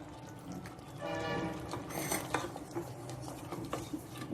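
Country chicken is stirred with biryani masala in a pot, with soft metallic clinks and scrapes of a spoon against the vessel over a low, wet sizzle.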